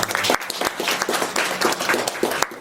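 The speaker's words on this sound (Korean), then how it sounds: "박수 한번 보내주십시오" Audience applause at a traditional hanok concert in Korea, fairly close and uneven, with distinct individual hand claps standing out from the steady patter.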